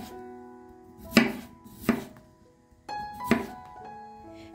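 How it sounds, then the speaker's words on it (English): Peeled potatoes are cut into large chunks with a knife on a board: four heavy, distinct chopping thunks spaced about a second apart, close and clear. "Peel the potatoes and cut them into large chunks."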